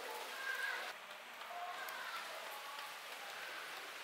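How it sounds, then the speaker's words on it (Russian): Rain coming down outdoors beside a packed car at an overnight fishing camp, a steady even hiss of falling drops with no clear pauses, fairly faint and continuous with no voices. "Припустил дождик."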